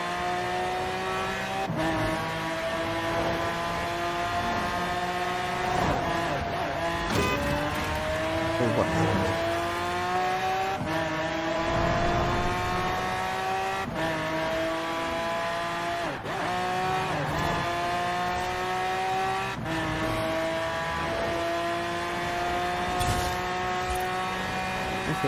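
Lamborghini Aventador SV in the racing game Forza Horizon 4, its engine revving high and climbing through gear changes with tire squeal, continuous throughout with a player's voice talking over it.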